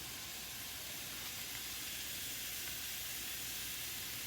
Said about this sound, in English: So I am just kind of browning the onions a bit.